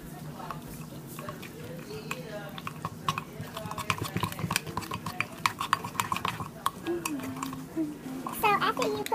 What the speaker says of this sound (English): now that you added your milk, you just mix and mix and mix and mix.